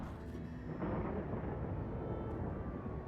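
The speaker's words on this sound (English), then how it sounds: "Wow, a storm coming." Thunder from an approaching storm in Final Fantasy VII Remake rolls as a low, distant, sustained rumble that swells slightly and then lingers, fairly faint throughout.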